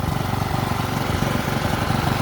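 A rebuilt garden tiller's small engine, with a rebuilt carburetor and new fuel line, runs close by with a loud, steady, rapid putter and no pauses.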